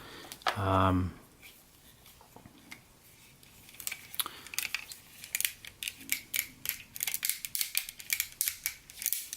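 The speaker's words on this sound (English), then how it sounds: "he's got ratchets in the thighs, so that's cool" Ratchet joints on a Transformers Masterpiece MP-36 Megatron figure give off a run of small, crisp clicks close to the mic. The clicks come in quick irregular bursts and grow denser toward the end, after a brief voice near the start.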